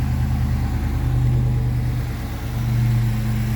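An LS3 V8 engine swapped into a Toyota FJ60 running at a smooth, deep idle just after starting, a steady low rumble that dips slightly then settles back, loud and close with no talking.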